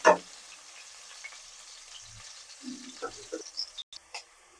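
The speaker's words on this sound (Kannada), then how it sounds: "ಈರುಳ್ಳಿ ಕಲರ್ ಚೇಂಜ್ ಆಗೋವರೆಗೂ ಫ್ರೈ ಮಾಡ್ಕೊಳ್ಳಿ." Sliced onions fry in a pan until they change colour. The soft, steady sizzle stays quiet throughout, with a sharp clink at the start, faint voice sounds and light stirring knocks near the end.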